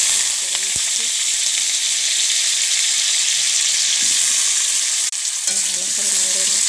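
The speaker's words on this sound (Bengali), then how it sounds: "তাতে তেল গরম করতে দিয়েছি এরপর ডুমো ডুমো করা আলুগুলো ছেড়ে দেব" Diced potatoes fry in hot oil, giving a loud, constant sizzle with occasional scrapes and clinks of a spatula stirring through the pan, with no voices.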